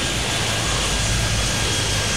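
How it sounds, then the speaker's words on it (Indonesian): Airplane engine in a flight and air traffic control video game, a steady, loud roar of the aircraft engine drone that holds evenly throughout, with no talk over it. "Waduh, ada pesawat lagi."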